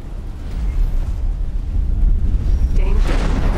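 A loud, sustained rumbling blast with heavy low-end roar, an explosion in the space game X4: Foundations, swelling again toward the end.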